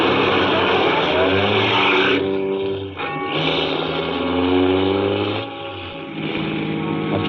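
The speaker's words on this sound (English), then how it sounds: "After I got the car back on the road again" Car engine in a radio drama sound effect as the car pulls back onto the road, a loud steady motor drone that dips briefly as gears change, then climbs again with rising pitch.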